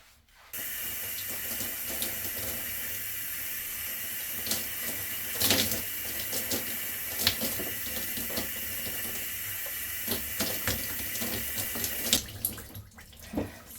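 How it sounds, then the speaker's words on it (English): Tap water running steadily into a basin or tub during hair washing, a continuous hiss with small splashes and clatters from handling, close and alone without speech. "So I'm going to wash my hair twice."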